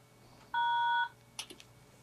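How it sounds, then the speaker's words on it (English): A short electronic beep confirms a contactless card payment tapped against the back of a phone, clean and steady for about half a second, followed by a few faint clicks. "you're tapping the card on the back of the phone and getting your payment"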